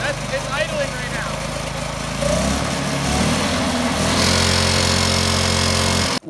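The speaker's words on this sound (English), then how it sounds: "That's idling. It's idling right now." A homemade, low-budget offroad drift trike engine idles nearby with a steady buzzing putter, rising slightly partway through, while a voice talks over it.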